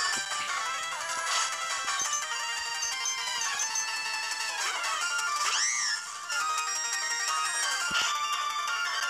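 A mobile phone ringtone plays loud and close, a busy electronic melody with bright tones and sliding pitch sweeps that continues for several seconds without pause.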